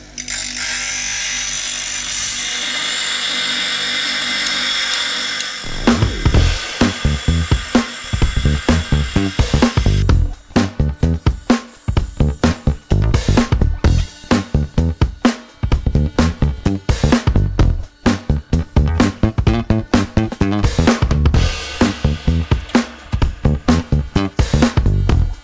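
A sausage knife blade pressed against a power sharpener wheel, a steady grinding whir at first, then a long run of repeated short, loud grinding passes with brief gaps between them, no talk.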